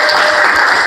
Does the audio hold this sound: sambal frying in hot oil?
no